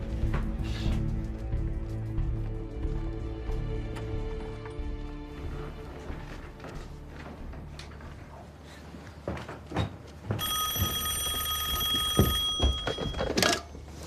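A telephone rings in a wartime command post, a bright trilling bell that starts partway through, preceded by dull thuds and movement, with loud bangs toward the end.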